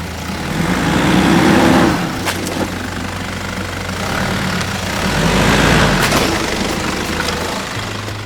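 A GU four-wheel drive on all-terrain tyres driving off-road in four-wheel drive, its engine droning and labouring in swells, with occasional knocks and thumps from the rough track and no talking.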